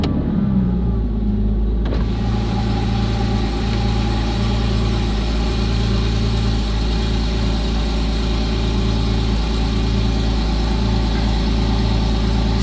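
A Porsche GT4 idles inside a garage, a loud, steady low rumble that stays constant throughout after a brief startup swell, close and enclosed.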